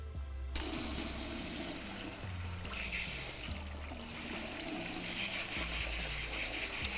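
A tap runs steadily as water wets a person's hair at a sink, a continuous splashing rush after a brief quiet start, close and loud throughout with uneven spattering.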